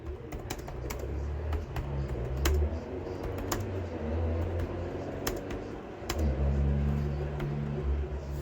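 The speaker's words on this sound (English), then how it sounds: "I'm just typing away here." Computer keyboard keys are typed in quick, uneven bursts of close clicks, with a low rumble and soft cooing in the background.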